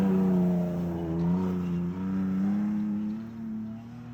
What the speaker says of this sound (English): Right now we have it set on the loudest setting